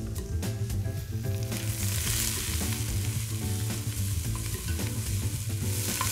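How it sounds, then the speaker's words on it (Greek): Fennel, onion and garlic sizzle steadily in a pot while being stirred, with repeated scraping and clinking of a utensil against the pot over the continuous frying hiss. "Τώρα, ανακατεύω."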